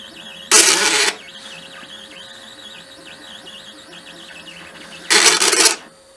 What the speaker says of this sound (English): the cross slide winds the tool back into the workpiece. So it just goes on effectively doing that until you've cut the desired screw depth